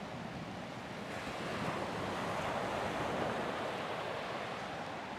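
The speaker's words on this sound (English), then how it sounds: "Of the water. The sound of the water." Ocean waves surge and wash continuously against the wild northern coast of Madeira near Seixal, a broad, even roar of surf with some wind buffeting the microphone.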